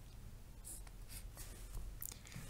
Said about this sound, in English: I'm just going to write this underneath to help me.